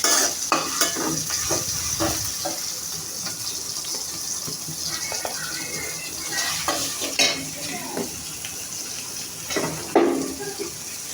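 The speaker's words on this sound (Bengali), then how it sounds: "এটি এখন আমি আদা রসুনের পেস্টটা দিয়ে দিলাম এটা এখন সুন্দর করে নেড়ে নেবো" Ginger-garlic paste fries in a pan and is stirred continuously. A bright, crackling sizzle carries repeated scraping and tapping of the spoon, heard up close.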